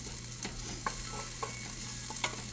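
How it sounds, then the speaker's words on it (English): Onions frying in a soup pot give a soft, steady sizzle close by, broken by a few light stirring scrapes and taps; no voices. "Just gotta put these onions down now."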